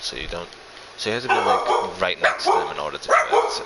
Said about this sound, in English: Sorry about that whole dog barking ordeal.